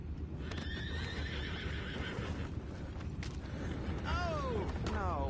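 Horses in the Red Dead Redemption 2 video game neigh and whinny several times over a steady bed of hoof clip-clop and creaking, loud and close.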